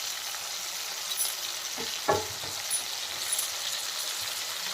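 Brinjal pieces fry in a softened tomato masala, a loud, continuous sizzle with a few soft stirring knocks and scrapes partway through, and no voices.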